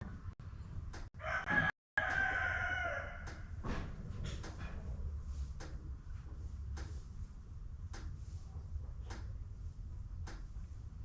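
Roosters crow loudly on a ranch, one long cock-a-doodle-doo standing out near the start, with scattered clucks and knocks continuing afterward over a steady outdoor background.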